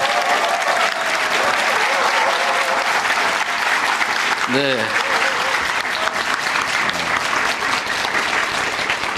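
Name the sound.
audience applauding and cheering at town hall meeting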